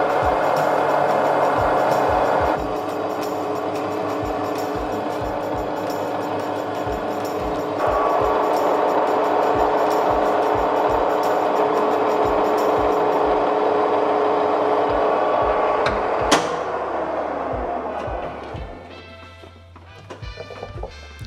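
An Inconel spin top being polished on a spinning lathe gives a steady, close mechanical hum and whir, with a rapid, regular tapping rhythm running through it, and the machine winds down near the end.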